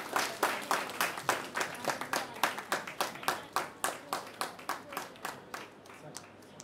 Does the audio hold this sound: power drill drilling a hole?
no